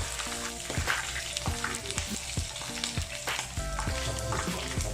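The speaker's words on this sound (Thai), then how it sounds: "เราจะทอดด้านหลังก่อนนะครับ" Thai crispy pork belly frying in hot oil, a close, steady crackling sizzle with bursts of popping and stirring throughout, no voices.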